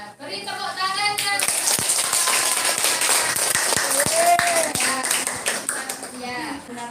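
Sustained clapping from a classroom of students fills most of the stretch, with voices and a child's speech heard at the start and end.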